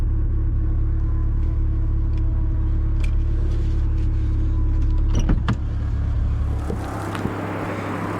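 A keyless car's engine runs at a steady low rumble that stays loud throughout, with a few brief clicks and whirs on top and a slight drop in level near the end.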